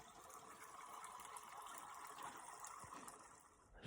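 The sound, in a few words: small spring water flowing in a steep canyon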